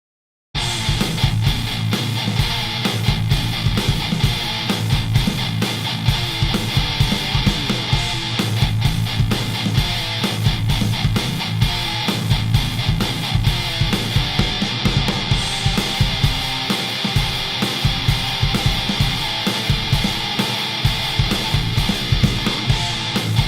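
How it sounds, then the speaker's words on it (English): Heavy metal electric guitar recorded through a miked guitar cabinet, with drums added, plays continuously and loud with dense distorted chords and steady pounding beats throughout. "I can actually add some drums to it, and then it would sound something like this."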